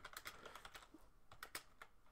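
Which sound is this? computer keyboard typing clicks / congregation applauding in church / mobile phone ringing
computer keyboard typing clicks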